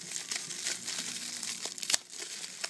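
Packaging for a cosmetics subscription box crinkles and rustles up close as it is opened, in quiet irregular bursts with one sharper crackle near the end, and no voices.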